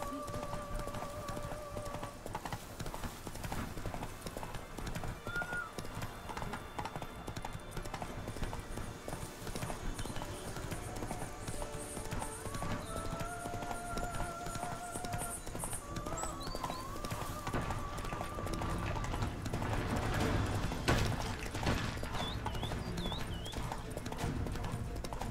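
In the video game The Witcher 3, the horse Roach gallops with steady, rapid hoofbeats throughout, together with game music and ambience, and a brief whinny and some speech are also present.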